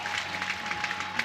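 A softball crowd applauds Carly Keeney at a game in Oklahoma City, Oklahoma against Baylor. The clapping is a steady, moderate patter from a distance, and no one speaks.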